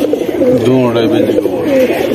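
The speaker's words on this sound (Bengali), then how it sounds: "দুইটাই হচ্ছে বেজি কবুতর" Bezi breed pigeons, a male and a female kept for sale, coo close by in soft, throaty, rolling calls that repeat across the moment, with voices talking alongside.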